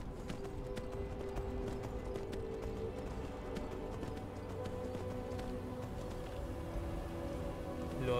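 Horse hooves clopping steadily while riding in Skyrim, a continuous rhythmic trot kept fairly quiet under a low ambient game soundscape, with no talking.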